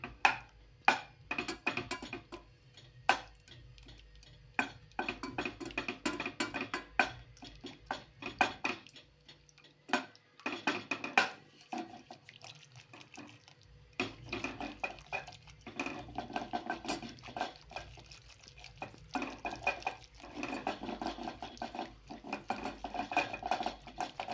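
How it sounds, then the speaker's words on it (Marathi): A wooden churner mashes soft pressure-cooked eggplant curry in a pot, giving repeated knocks and scrapes against the pot with wet squelching, in fairly steady bursts over the whole stretch with brief pauses and no talk. "आता रवीने चांगली घोटून घेऊ आपण"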